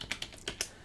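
Keystrokes on a computer keyboard typing a sudo command during an Arch Linux install, about five quick, separate clicks in an uneven rhythm, close and fairly quiet.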